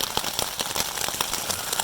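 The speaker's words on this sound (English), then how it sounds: "Well, it's raining harder." Hard rain drums on a winter camping shelter in the Shawnee National Forest, a dense, close, steady patter of drops with frequent sharper individual hits.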